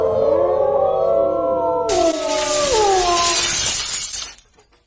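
A loud crash of window glass shattering bursts in over eerie sustained tones, with a long bright spray of tinkling shards that fades out at the end.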